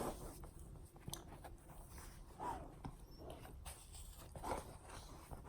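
Dogs playing indoors, with faint whimpers, chewing and mouthing noises, soft thumps and occasional short yelps scattered over a quiet room background.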